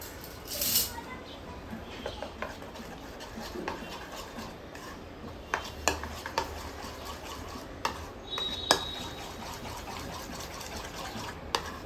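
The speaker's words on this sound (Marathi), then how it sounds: "आता आपण याच्यामध्ये पूर्ण सोडा टाकून घेऊया आणि हे मिक्स करून घेऊया" Soda stirred into dhokla batter with a spoon in a bowl, giving soft scraping and occasional light taps against the sides over a low, steady background, with no voices.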